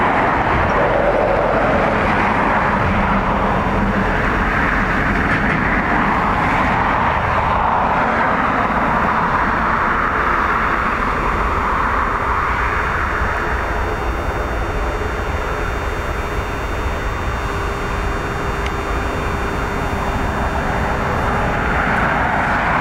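An airliner lands at Dublin Airport with a loud, sustained roar of jet engines that swells and rolls on for over twenty seconds, broad and rumbling, with no talk over it.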